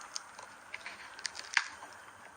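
Crispy fried cauliflower, coated without egg and fried golden, crunches under a few sharp close bites, with small crackles between them and no talking.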